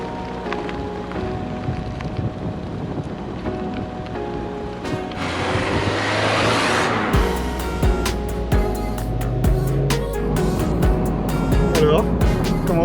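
An Opel Ascona convertible drives along with a steady engine drone and loud wind rush, while people talk over it.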